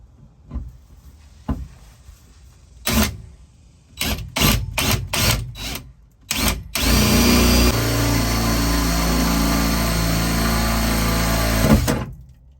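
Several sharp knocks and clanks, then a power drill bites into steel with a loud, steady grinding whine for about five seconds before stopping.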